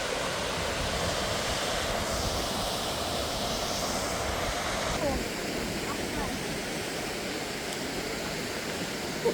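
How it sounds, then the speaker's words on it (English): A waterfall in the UK rushes somewhere below, a dense, continuous roar of falling water filling the whole clip loudly and without pause. "I believe there's a waterfall below us. You can hear."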